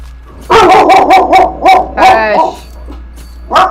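A dog barks in a rapid burst of five or six loud, close yips, then lets out a rougher, drawn-out bark and one more sharp yap after a short pause.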